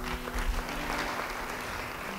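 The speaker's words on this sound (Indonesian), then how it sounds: "Ya, beri tepuk tangan bagi dia." A church congregation applauds during a sermon, with steady, moderately loud clapping that fills the whole stretch and has no voices over it.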